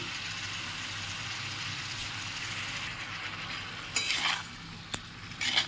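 A spoon stirring soybean and tomato curry in a pan over a constant low sizzle, with brief scraping and clinking bursts of the utensil toward the end.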